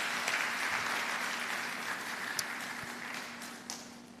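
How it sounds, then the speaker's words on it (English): An audience applauds at a CBN Governor's annual lecture, a steady, moderately distant wash of clapping that holds evenly and tapers slightly toward the end. "I thought you appreciate and celebrate your school by a better round of applause."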